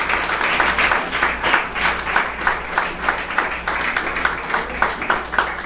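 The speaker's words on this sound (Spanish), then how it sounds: "Denle un aplauso fuerte al Señor de gloria." A church congregation claps together in a strong, rhythmic applause during a worship service, the beats pulsing steadily and loudly throughout.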